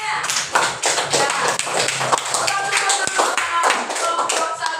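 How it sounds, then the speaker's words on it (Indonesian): Classroom applause for a student group: a burst of fairly close, uneven hand clapping from a small class that continues for several seconds, with some voices mixed in. "kita kasih dulu tepuk tangan nilai bersama kelompok 1"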